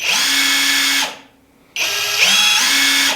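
A PULITUO 1/2 in brushless impact wrench runs at high speed with a higher-pitched whine, stops briefly, then revs up again and keeps spinning steadily.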